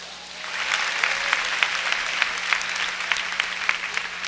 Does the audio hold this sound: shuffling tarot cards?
no